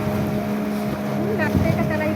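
A motorboat engine hums steadily on open water near Suvarnadurg fort at Dapoli, a constant mid-range drone with wind across the microphone and people talking over it in snatches.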